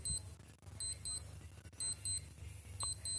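Repeated bursts of thin, high-pitched electronic beeping from a V2A digital sports watch alarm, grouped in quick pairs and triplets, near and distinct against a quiet low hum.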